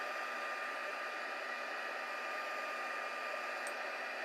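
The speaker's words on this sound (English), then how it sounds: "you're going to hear a little bit of noise while I do the embossing" Steady, continuous whirring blast of a heat gun embossing paper at close range, unchanging throughout.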